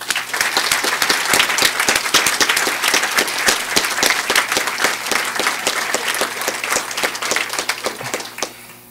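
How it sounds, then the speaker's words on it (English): Sustained audience applause at a 2018 Wall of Distinction ceremony in Fairport, a dense, steady roar of many hands clapping that holds for about nine seconds and then tapers off. "Please give a round of applause to our families."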